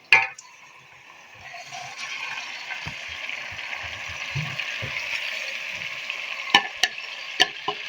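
Marinated chicken is added to onions in a kadai, setting off a steady soft sizzle of frying with occasional clinks and scrapes of a spoon against the pan.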